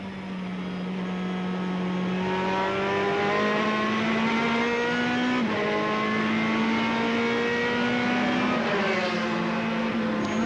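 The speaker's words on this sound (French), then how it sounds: "On a la Saline qui nous dépasse." At the Spa-Francorchamps 24 Hours, a race car engine drones loud and steady from onboard, its pitch climbing through gears with brief shift dips as a Saleen overtakes.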